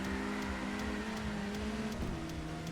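A race car in a racing video game grinds along a wall. A steady engine drone with a droning tonal whine carries through, and the pitch shifts slightly near the end.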